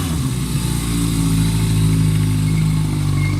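A 1979 Yamaha XS1100 Special motorcycle engine idles steadily up close, a deep even rumble that holds without any voices.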